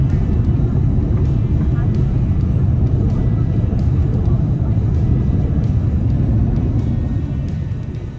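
Inside an airliner slowly taxiing along the runway after landing, a loud, steady low rumble fills the cabin with little change throughout, easing slightly near the end.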